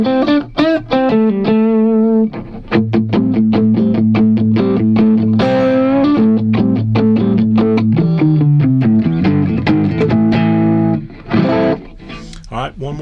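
A Stratocaster electric guitar run through a Lava Studio preset plays a loud, bright run of picked notes and sustained chords with effects and slight distortion, alone and upfront.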